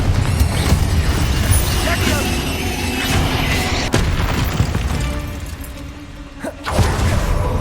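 Repeated spell explosions, Confringo and Bombarda, burst loudly in the Hogwarts Legacy video game over dense game audio with booms and crashes, while a voice calls out spell names.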